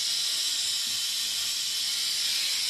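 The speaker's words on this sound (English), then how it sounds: "hose in the pan, sucking out as much as I can" A hose sucks leftover transmission oil out of the shallow pan of a Jeep JKU NAG1 transmission during a DIY flush and filter change, a steady loud airy hiss running without a break.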